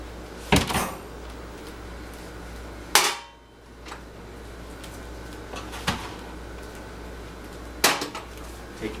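Bread loaves are knocked out of their pans in a home kitchen, making several sharp, separate thumps and knocks spaced a few seconds apart, close by, with quiet room noise in between.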